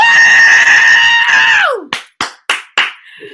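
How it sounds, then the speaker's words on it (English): A woman lets out a loud, sustained scream of excitement that slides downward, followed by four sharp claps. "I'm sorry I had to scream"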